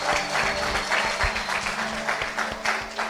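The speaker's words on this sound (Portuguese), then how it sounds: "Dê uma salva de palmas, Senhor." A church congregation claps steadily in a dense, continuous burst of applause, with a low hum underneath and no talking.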